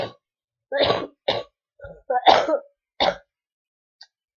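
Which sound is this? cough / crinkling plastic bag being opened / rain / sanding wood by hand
cough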